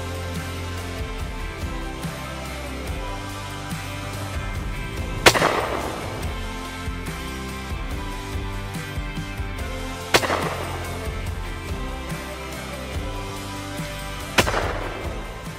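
Shotgun shots during a driven pheasant shoot, coached practice at Grimsthorpe: three sharp, loud blasts spaced several seconds apart over a steady background bed, with no talking.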